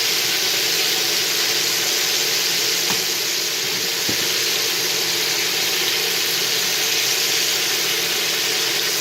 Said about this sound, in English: Okay, we're getting a really nice sear.